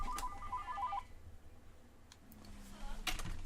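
A telephone rings with a brief warbling trill at the start, then cuts off, leaving quiet room noise and a few faint taps.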